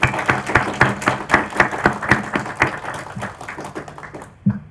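An audience at a jurisprudence lecture session applauds steadily, a dense patter of clapping hands that holds for several seconds before tapering off.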